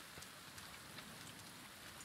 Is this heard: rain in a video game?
yes